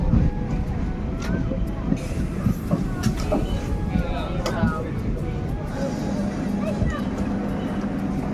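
A train at a railway station rumbles steadily with occasional metallic clanks and squeals, fairly close, while people talk over the noise.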